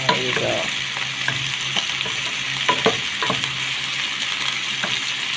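Steak sizzles in a frying pan as peach sauce is stirred through, a steady hiss of frying with the scrape and clink of a utensil against the pan at irregular moments.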